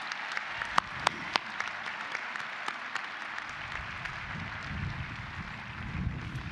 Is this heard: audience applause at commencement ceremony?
yes